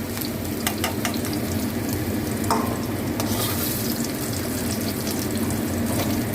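Scallions frying in hot oil in a pan with potatoes cooked earlier, giving a steady dense sizzle throughout with a few sharp crackles and light clinks over it, close and without speech.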